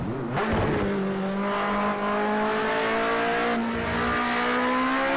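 Race car engine in the Project CARS 2 racing game, revving with rising harmonic pitch as it accelerates, with tire squeal from a car rotating through a corner, loud and continuous.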